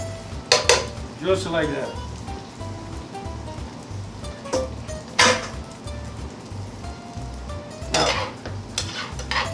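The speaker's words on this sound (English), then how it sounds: "Now I'm going to turn off the heat, and we are going to add that pasta in there right here" Bucatini pasta tipped into a pan for carbonara and stirred with the heat off, giving several sharp scraping and clattering bursts over a steady low hum, with a voice speaking between them.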